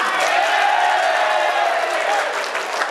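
Seminar audience clapping along while cheering loudly, a dense crowd roar with shouting voices over the claps, steady and full for the whole stretch before tapering slightly.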